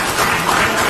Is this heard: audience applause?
yes